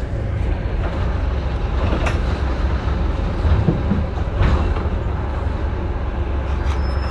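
A train at Brighton Station in England gives a continuous low rumble with faint rail clatter. A few sharp knocks stand out over the steady noise.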